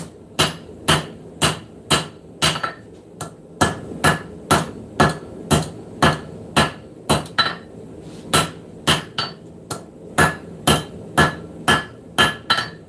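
A hammer strikes hot metal on an anvil in a forging shop, with about thirty loud, ringing blows in a steady rhythm and brief pauses between runs of strikes, with no talking.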